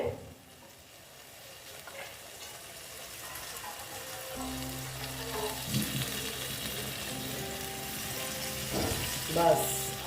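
Water poured into a pot of small tengra fish curry with potato and brinjal, giving a steady sizzle and splash that builds over about ten seconds with stirring clatter, no talk.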